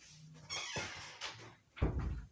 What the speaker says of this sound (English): Let me just go ahead and close this door